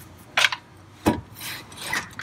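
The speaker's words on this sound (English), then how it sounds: "you're gonna get a flathead and you're gonna separate the caliper from the bracket by prying like this" A flathead screwdriver pries a brake caliper off its bracket on a Chevrolet Tahoe front brake, giving a few short metallic scrapes and grinding rubs, close and separated by brief pauses.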